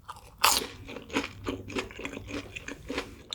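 Up-close bites into crispy tangsuyuk sweet and sour pork give a loud first crunch, then a series of softer crackling chews.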